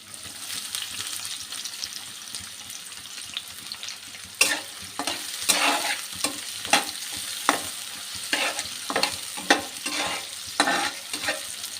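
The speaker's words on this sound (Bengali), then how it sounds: "দিয়ে দিচ্ছি পেঁয়াজ কুচি" Chopped onions frying in a pan for a tripe curry, starting as a low, steady sizzle that gives way to a quick run of sharp stirring scrapes and clatters, close by and with no speech.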